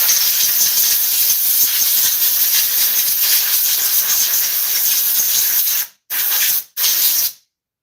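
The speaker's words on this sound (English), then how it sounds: "I'm also using air, so the air compressor will come off and on" An air compressor runs with a loud, steady hissing roar for about six seconds, then cuts out, with two short bursts of air following before silence.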